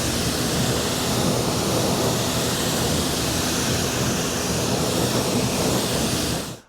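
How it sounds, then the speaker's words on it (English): Steady full-band rush of water spraying onto a car tire to rinse off tire cleaner, loud and continuous for several seconds before cutting off abruptly at the end. "we're pretty much ready to rinse this off"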